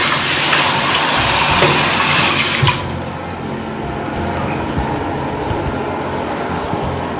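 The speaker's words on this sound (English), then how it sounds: "Now I am going to wash my skin with the normal tap water." Running tap water splashes loudly as a face is washed, a strong gushing flow for the first few seconds, then a quieter trickle and scattered splashes of hands in water.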